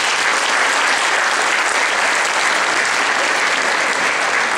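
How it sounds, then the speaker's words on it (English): A school holiday concert audience applauds teachers and staff with loud, steady clapping from many hands, a continuous dense wash that holds at the same level from start to finish. "please give them a round of applause"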